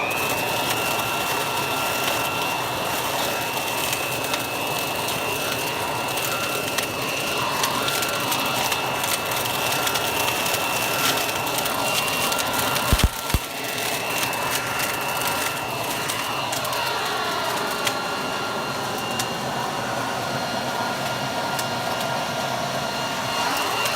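A Black & Decker 3-in-1 leaf vacuum runs steadily nearby with a constant motor whine, rattling and crunching as it sucks up and shreds leaves. A sharp clatter comes about halfway through.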